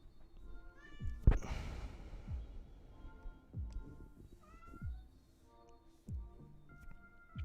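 A house cat meows close by several times in drawn-out, wavering calls spread across the moment, with soft thumps and low rumbling between them.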